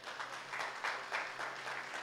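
A church congregation applauds in a steady, moderate wash of clapping that swells in gentle waves, heard from a little distance with no voices over it.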